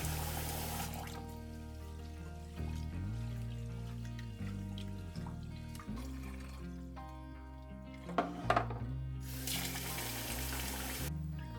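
Jasmine rice being washed in water, with bursts of splashing and pouring at the start and near the end under steady background music.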